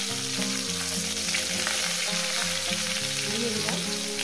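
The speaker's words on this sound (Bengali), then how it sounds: "এই তেলের মধ্যে আমি দিয়ে দেবো ফুলকপিগুলো।" Cauliflower florets frying in a little oil over a gas flame, a close, steady sizzle with faint crackles and a few light stirring touches, no voices.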